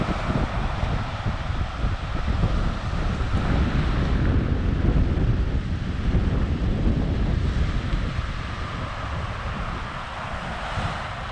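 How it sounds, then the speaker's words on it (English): Strong wind blows on the coast of North West Tasmania, buffeting the microphone with a heavy, continuous low roar that carries faint surf-like rushing throughout. No voices are heard. "Very windy today,"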